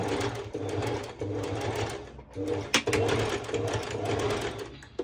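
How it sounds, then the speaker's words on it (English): A sewing machine runs a straight stitch close to the edge of fabric, whirring in rapid bursts with short pauses between runs, close and fairly loud. "I'm going to do a straight stitch quite close to the edge."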